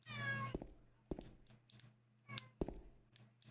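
A pet cat named Tilly lets out a drawn-out meow close by, followed by sparse soft thumps and clicks, with a steady low hum in the background.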